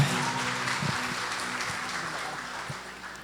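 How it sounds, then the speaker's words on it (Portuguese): Applause from a church congregation during a Baptist worship service, a dense wash of clapping that starts strong and slowly fades over a few seconds, with faint voices underneath. "Uma salva de palmas ao Senhor."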